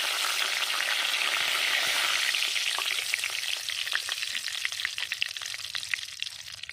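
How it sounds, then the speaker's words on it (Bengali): Bay leaf and dry red chilli are dropped into hot mustard oil, setting off a loud, dense crackling sizzle that eases slightly into finer spitting pops. "ওই তেলে দিয়ে দেবো আর একটু সর্ষের তেল ফোড়নে দিয়ে দেব তেজপাতা শুকনো লঙ্কা"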